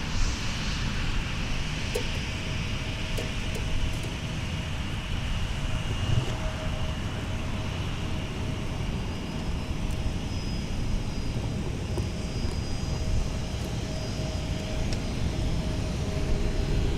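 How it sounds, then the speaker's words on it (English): China Southern Cargo heavy jet departing runway 17 at Minneapolis–Saint Paul airport, a steady broadband engine roar with low rumble holding throughout, moderately distant and without talk. "we are ready to capture the climb out, the departure of our China Southern Cargo"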